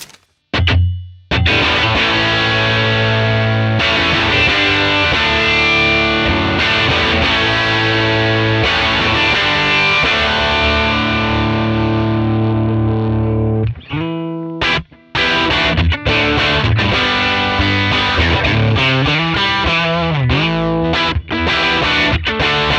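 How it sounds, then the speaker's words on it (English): An electric guitar, a Yamaha SA1000 played through a 1963 Gibson GA-5 amp, plays loud, gritty, overdriven licks, mostly sustained chords and then quicker choppy phrases, with a brief drop near the middle. "I'll play a few licks on the Gibson GA-5 with my trusty Yamaha"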